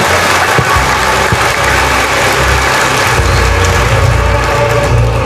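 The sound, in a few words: audience applause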